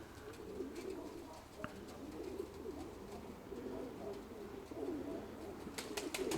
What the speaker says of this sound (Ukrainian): Мурчать голуби.